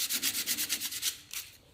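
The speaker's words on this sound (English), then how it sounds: "just a softer bit of sanding" Light sanding of a wood carving for a soft finish: about a dozen quick, even back-and-forth rubbing strokes, close and clear, then a pause and one last stroke.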